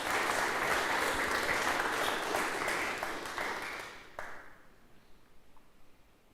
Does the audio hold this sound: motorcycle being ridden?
no